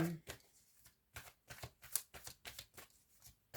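Tarot cards being shuffled by hand, a quiet close series of rhythmic riffling and slapping strokes repeating steadily.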